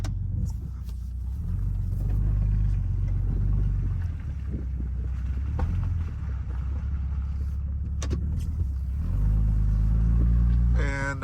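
A Jeep WJ with a 6.5-inch lift on 37-inch tires drives along a snowy road and turns around, with a steady low engine rumble, wind buffeting the microphone and a rev that climbs near the end.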